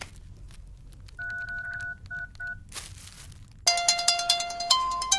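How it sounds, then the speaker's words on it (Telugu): Telephone keypad tones as a number is dialed: a few short beeps in an uneven rhythm, a brief rustle, then a louder run of rapid tones, close and clear in a film scene. "ఫోన్ ఈ నంబర్ కొట్టి తెలుసుకుందాం"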